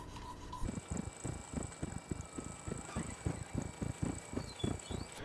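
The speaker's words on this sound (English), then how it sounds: "just make a few passes over the blade with it." A Wicked Edge sharpener's stones stroking over a scissor blade on the scissor attachment, a quiet, rapid, even series of raspy rubbing passes with a faint steady high whine behind them.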